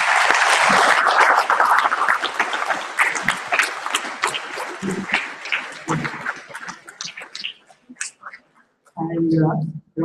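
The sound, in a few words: audience applause for Sishi sir at conference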